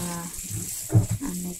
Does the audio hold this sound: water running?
yes